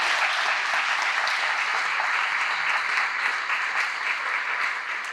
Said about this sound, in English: Can we give a round of applause to the executive?